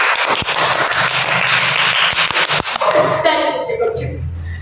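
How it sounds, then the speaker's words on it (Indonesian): Classroom applause for students who have finished reading: a dense, steady patter of many clapping hands for about three seconds, then fading as a voice comes in. "silakan beri tepuk tangan untuk kalian semua yang sudah mau membaca"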